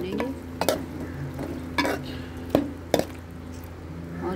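Spiced meat for tinday gosht sautéing in a pot with green chili, ginger and garlic, a soft steady sizzle broken by several sharp scrapes and knocks of a stirring spoon against the pan.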